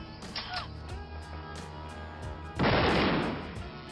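Shotgun blasts in a film action scene, one loud booming shot standing out near the end over a continuous music and effects bed, with softer impacts earlier.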